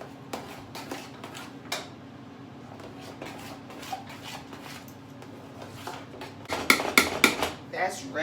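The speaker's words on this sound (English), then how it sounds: "Stirring up the mashed potatoes." A spoon stirs mashed potatoes in a cooking pot with repeated scraping and soft knocks against the metal, close and steady, and a louder clatter comes near the end.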